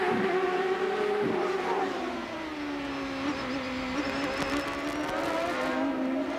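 A 1996 CART Indy race car engine heard from the on-board camera during the Detroit street-circuit Grand Prix, a loud, sustained high-pitched whine whose pitch dips and then rises again through gear and throttle changes.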